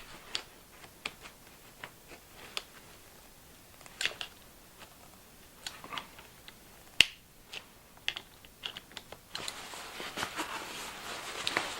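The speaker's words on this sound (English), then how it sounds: "I use the bigger pliers to really squeeze them in place" Sharp plastic clicks and snaps from pliers squeezing twist-lock fasteners into place on a sailboat canvas, a scattered run of close, crisp ticks, one louder crack near the middle and a denser rustle toward the end.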